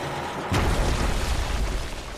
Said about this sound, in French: voilà le canon, le fameux canon.